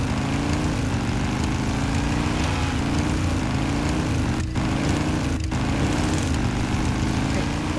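A tractor engine in the video game Men of War drones steadily with a low, buzzing, propeller-like chug, loud and continuous, with two brief dropouts near the end.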